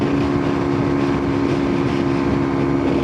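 A Kawasaki Ninja 125 motorcycle ridden at speed, its engine droning steadily under loud, constant wind rush, with no talk.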